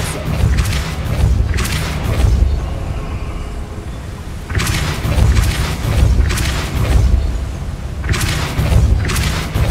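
Depulso spell blasts in the Hogwarts Legacy video game, heavy booming thuds with whooshing bursts that strike in repeated clusters close and loud, with short lulls between volleys.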